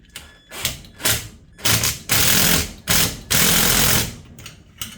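A screwdriver tightens a screw on a stove power cord terminal, giving a series of short, loud, scraping ratchety bursts in an irregular rhythm, close by and with no talk.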